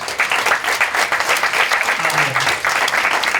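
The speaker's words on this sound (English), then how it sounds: "Give them a round of applause." A live audience at a mayoral candidate forum in a community college hall claps in loud, dense, sustained applause for the whole stretch.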